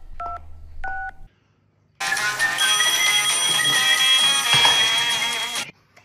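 A telephone keypad dials when ordering food by phone: two short touch-tone beeps, a pause, then a long steady ringback or line tone that lasts several seconds before cutting off.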